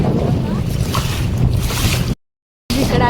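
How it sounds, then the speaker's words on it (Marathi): Strong wind blows near the sea by a lighthouse on the Malvan coast, a loud buffeting rush on the microphone that cuts out briefly before resuming. "इकडे आल्यावर वारा पण खूप सुटला आहे"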